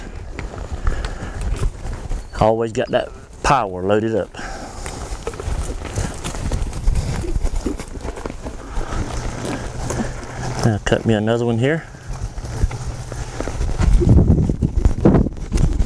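A cutting horse works a cow, its hooves drumming on the ground in quick irregular bursts while someone talks over the action, with wind buffeting the microphone.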